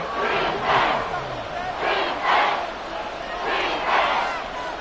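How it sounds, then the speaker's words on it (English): A football stadium crowd swells in repeated loud waves of cheering and chanting ahead of a big third down, a dense distant roar with commentary running over it. "The crowd getting into it as we come up on a big 3rd down."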